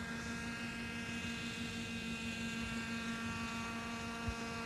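A radio-controlled model helicopter holds a steady hover about four to five feet up, its engine and rotor giving a continuous droning whine with a steady low hum and bright harmonics throughout.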